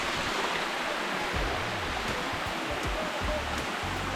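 A waterfall on a steep mountain in Thailand gives a steady, close rushing roar of falling water that runs unbroken throughout.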